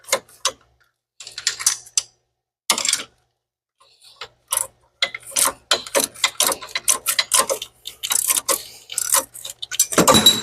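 A hand ratchet tightens a part on a car, with bursts of rapid clicking separated by pauses that grow into longer, quicker runs of close, crisp ratcheting toward the end.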